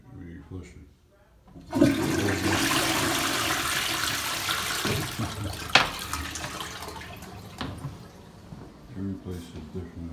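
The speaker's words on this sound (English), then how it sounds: "this is really flushing." A toilet flushes in a bathroom in Chicago, with a sudden loud rush of water that holds steady for several seconds and then drains away, close and dominant over the background.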